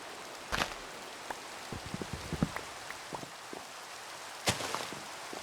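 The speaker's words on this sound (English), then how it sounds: "Sweet rain." Rain falls in the video game Minecraft, a soft steady patter with scattered sharper drops and occasional louder splashes, even and fairly close.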